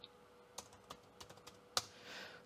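Someone types on the keyboard of a SpacemiT MUSE Book RISC-V laptop, making faint, scattered key clicks at an irregular pace, with one sharper tap near the end.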